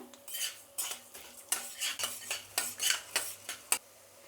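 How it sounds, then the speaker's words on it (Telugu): Coriander seeds roast in a dry pan while a metal spoon stirs them in a run of rhythmic scraping clinks, about a dozen strokes, close and clear, with no voices. "ఇప్పుడు ధనియాలు వేస్తున్నాను."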